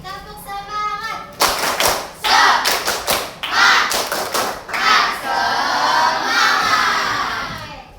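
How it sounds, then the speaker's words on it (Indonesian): A classroom of children performs a rhythmic spirit clap, sharp unison claps in patterned bursts mixed with shouted chanting, close and loud in a teacher-led lesson. "Tepuk semangat"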